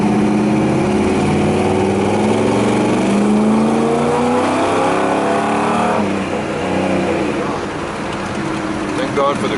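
A pro-street 1959 Nash Rambler accelerates hard, its engine roaring loudly with rising revs and gear changes heard from inside the car, with people talking over it.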